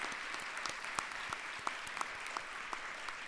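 Ceremony audience applauding honored guests at a Portland Community College investiture, moderate clapping with a few sharp nearby claps standing out above the steady patter of the crowd.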